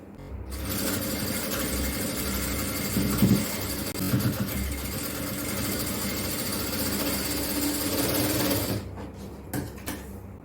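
A sewing machine stitching a nighty runs in a steady, close mechanical whir for several seconds, then stops, followed by a few sharp clicks and handling knocks.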